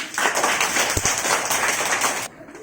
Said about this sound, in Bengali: এর জন্য একটা হাততালি